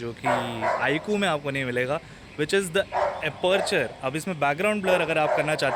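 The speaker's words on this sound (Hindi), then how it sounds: "पीछे से डॉगी के भौंकने की आवाज़ आ रही है" Behind someone talking steadily in the foreground, a dog keeps barking and yipping in the background, repeated short barks mixed into the speech.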